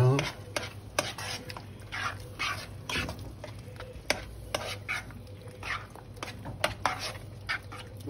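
A spoon stirs risotto in a pan over the heat, making repeated scraping and clacking strokes at an irregular rhythm, close up over a soft sizzle.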